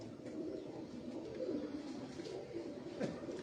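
Soft, low cooing of a pigeon, repeated a few times against a faint background hum.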